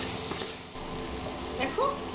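Salt, turmeric and Kashmiri chili powder frying in a pan for a vegetable Maggi noodle dish, a soft continuous sizzle close by, with a brief squeak of a utensil near the end.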